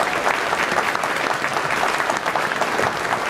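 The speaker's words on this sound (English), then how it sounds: "A round of applause, please" A concert audience at a Veterans Day celebration applauds an orchestra's concertmaster, dense, loud and steady clapping sustained throughout without a break.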